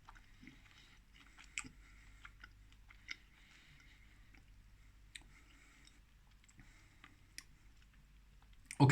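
Someone chews a Swizzels Drumstick chocolate bar, with soft, close crunching and wet mouth clicks scattered across the quiet stretch and a sharper noise at the very end.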